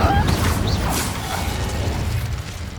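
The Incendio fire spell goes off in Hogwarts Legacy, a loud, close burst of whooshing flame with mechanical crackle and rumble that fades over a few seconds amid other combat effects.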